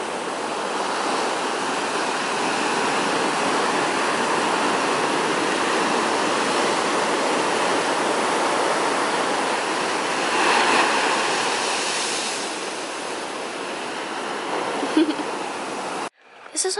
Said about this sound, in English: Oh my gosh, these waves are actually crazy.